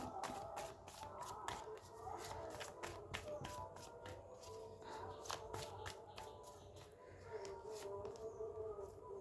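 Cards being shuffled by hand, angel and universe message cards riffled and tapped in quick repeated bursts, close and fairly quiet over a low background hum.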